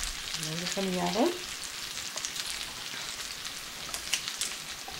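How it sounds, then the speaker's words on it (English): Chicken frying in a pan fresh from the oven, giving a soft, steady crackling sizzle throughout, faint and close, with a brief voice-like tone near the start. "You hear it still sizzling"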